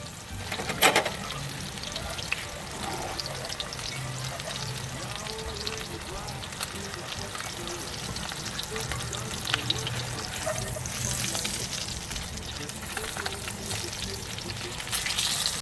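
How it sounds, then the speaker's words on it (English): Steak searing in a hot pan, a continuous crackling sizzle with occasional louder pops, close and steady, while someone talks faintly in the background. "This should be plenty hot now, so we'll put the first steak"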